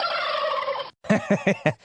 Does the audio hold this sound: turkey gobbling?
yes